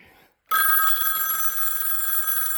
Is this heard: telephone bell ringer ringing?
yes